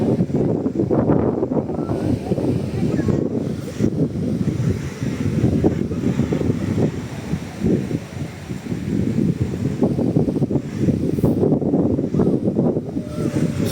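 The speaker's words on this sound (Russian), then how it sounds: "Все, ветра начались." Wind gusts steadily across a central sandy beach in Anapa on a warm day with choppy, murky water, a loud buffeting roar with surf rumbling beneath, no voices.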